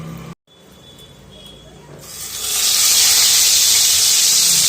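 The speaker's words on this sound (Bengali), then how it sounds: "এবার মাছগুলোকে ভেজে নেব।" Pabda fish sliding into hot salted mustard oil, a brief quiet pause and low background, then a loud hiss that swells into a steady, close, intense sizzle.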